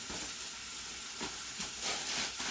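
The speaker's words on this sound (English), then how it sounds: "So we're going to let those sizzle for just a little bit" Continuous close-up sizzling and hissing, steady and bright throughout with slight swells.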